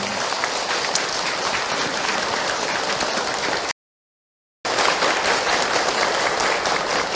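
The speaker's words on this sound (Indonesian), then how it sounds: "Tepuk tangan buat para ayah." A religious talk audience applauds for the fathers, dense sustained clapping from a large crowd that cuts out abruptly for about a second, then resumes just as loud.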